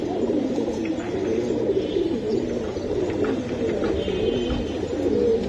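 Giribaz pigeons coo in low, continuous murmuring calls that overlap one another, close and steady, with no talk.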